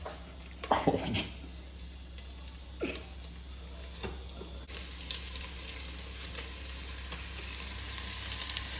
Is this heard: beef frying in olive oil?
yes